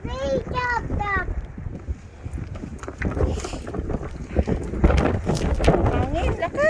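Strong wind gusts buffet the microphone outdoors, producing a rough, uneven low roar that swells and fades. Voices talk over the blustery noise throughout.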